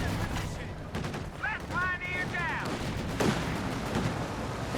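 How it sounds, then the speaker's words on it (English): Anti-tank gun shots from a Company of Heroes 2 match, several sharp reports over a steady battle din, with someone talking throughout. "AT gun's doing some damage here"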